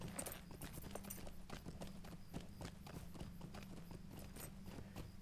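A blonde horse named Coriander trots along in a video game, its hooves clip-clopping in a quick, even rhythm, faint and steady with a low hum underneath.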